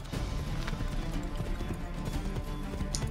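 A horse in Assassin's Creed 3 gallops with a steady, fast clip-clop of hooves, loud and close throughout, with a brief whinny near the end.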